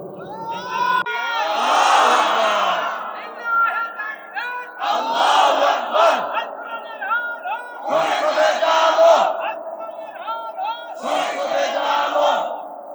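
A large crowd at an outdoor Islamic sermon shouts slogans in unison, loud chanted bursts repeated in a regular call-and-response rhythm with short gaps between each roar.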